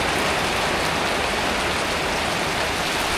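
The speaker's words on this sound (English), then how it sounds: "We cannot continue the work because it's very heavy rain here" Very heavy rain pours down steadily over a farm under construction, a dense, loud, unbroken hiss and patter lasting throughout with no voices.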